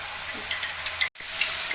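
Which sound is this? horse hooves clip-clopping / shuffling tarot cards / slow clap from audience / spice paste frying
spice paste frying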